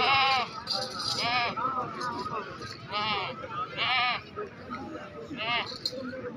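Goats at a livestock market in Bahawalnagar bleat repeatedly in loud, wavering cries, several overlapping, while someone talks nearby over a busy background.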